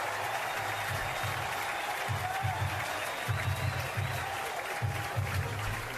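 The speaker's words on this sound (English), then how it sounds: "Crowd comes alive as Mike Silva comes out of the dugout" Alabama Crimson Tide baseball crowd at a home game against Nicholls, cheering and applauding as a relief pitcher takes the field. The stadium roar holds steady throughout, with an announcer's voice talking over it.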